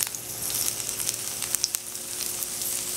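Mahi mahi and potato skewers sizzle in a hot cast iron skillet, a steady bright hiss peppered with small crackles and pops.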